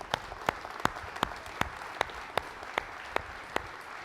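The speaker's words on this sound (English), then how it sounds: "Let's give ourselves a round of applause." Company staff at a town hall meeting clap together in slow, regular unison, evenly spaced sharp claps about every 0.4 seconds over a soft background of scattered applause.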